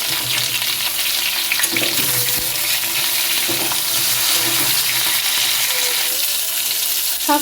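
Eggplant sizzles steadily in a hot pan for a mixed vegetable curry alongside ridge gourd, with occasional spatula stirs and scrapes over the continuous frying hiss.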